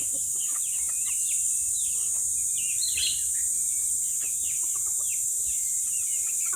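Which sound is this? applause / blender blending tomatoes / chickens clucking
chickens clucking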